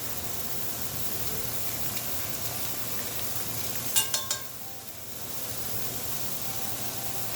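Ramen noodles and jumbo shrimp stir-frying in a hot pan, a continuous close sizzle with brief scraping clicks of a utensil stirring midway, then the hiss settles slightly.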